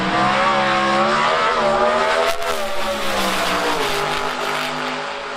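Pro stock drag race cars launch down the strip at an IHRA event, engines screaming at high revs with rising pitch as they pull away, loud at first and fading slightly into the distance.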